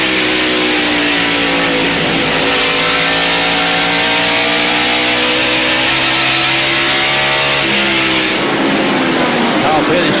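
NASCAR stock cars race side by side at the 1993 Bud 500, engines roaring loud and close with steady high revs and a pitch shift as cars pass, while a commentator talks over the din.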